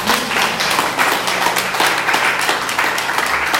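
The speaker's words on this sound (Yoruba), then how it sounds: "Ẹ pàtẹ́wọ́ fún mi." An audience at an evangelist's gathering bursts into steady, loud applause, a dense continuous clapping that carries through the whole moment.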